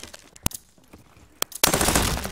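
Gunfire from a Call of Duty Vanguard multiplayer match: scattered sharp single shots, then a sudden loud sustained burst of rapid automatic fire near the end.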